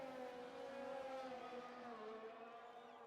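Mercedes Formula 1 power unit heard onboard in a racing video game during French Grand Prix league qualifying: a steady, loud, high engine whine that holds its pitch, then dips slightly toward the end, with no talk.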